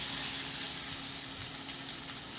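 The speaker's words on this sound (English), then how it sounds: "So you want to get a nice sear on the salmon." Salmon sears skin side up in hot oil in a pan, giving a soft, continuous sizzle and crackle throughout with no voices.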